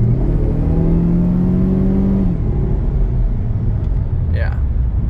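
A car with roughly a quarter million miles on it idling and revving, a low engine rumble with a rising then settling tone, overlaid by someone talking.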